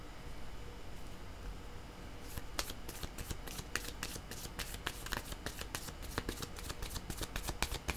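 Tarot cards being shuffled by hand, a quiet stretch before rapid crisp riffling and flicking bursts repeat closely in an irregular rhythm.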